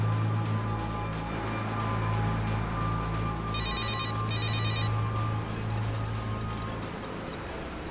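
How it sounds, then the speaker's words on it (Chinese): A telephone rings in a drama scene, its electronic bell pulsing in short repeated bursts over a loud, steady background hum. "你不会连电话都不让我接吧？"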